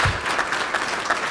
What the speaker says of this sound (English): I want everyone to give a big round of applause to Kim Kreiner back here.